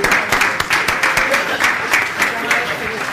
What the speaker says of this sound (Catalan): I ara fem un aplaudiment